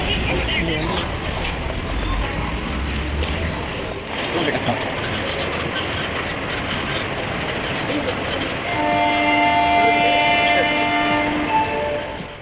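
Electric suburban train at the Chennai Beach terminus station, a rumbling, clattering rail-car drone that swells near the end with a sustained tonal whine, while people talk and move about the busy platform.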